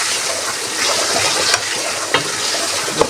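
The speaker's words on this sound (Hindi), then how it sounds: "ये देखें, मैं इसको खूब भून रही हूँ मखानों को।" Fox nuts (makhana) being roasted with minced meat in a pan give off a steady close sizzle, with a few sharp stirring scrapes and clinks over the frying hiss.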